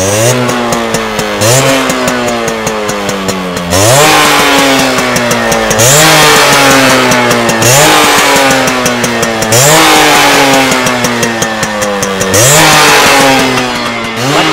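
Yamaha RX 100 two-stroke motorcycle engine revs hard close by, rising and falling in repeated throttle blips with a raspy, buzzing exhaust note, loud and steady with no talking.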